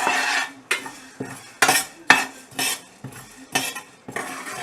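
Coriander seeds and pepper are dry roasted in a pan, heard as a regular series of about eight scraping stirs with a spoon against metal, close and crisp with short gaps between strokes.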